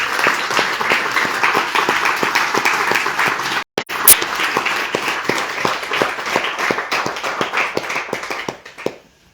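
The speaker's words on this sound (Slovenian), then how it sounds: "predlagal mogoče en vmesni aplavz" Sustained audience applause at a doctoral dissertation defense, dense clapping filling the room with a brief dropout midway before fading out at the end.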